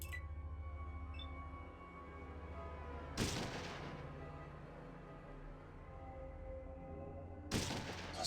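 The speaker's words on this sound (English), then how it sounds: "Small gunfire." Gunfire in the Fallout video game, including a combat shotgun fired from far away. Two sharp, fairly faint shots land about four seconds apart over a low, quiet ambient hum.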